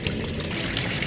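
Water runs and splashes steadily while rice is washed for Jamaican rice and peas, a close, continuous trickling gush with no voices over it.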